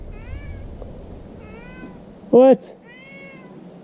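A cat meows once, loud and close, with a few fainter high chirping calls before and after it; a person briefly speaks.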